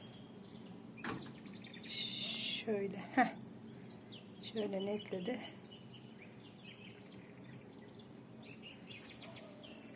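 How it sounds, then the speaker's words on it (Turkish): A few birds chirp and twitter in short bursts at a distance at sunset, partly under a person speaking briefly and laughing, over a quiet outdoor hush; the evening call to prayer has just sounded. "şu kuşların cıvıltılarını duyuyor musunuz?"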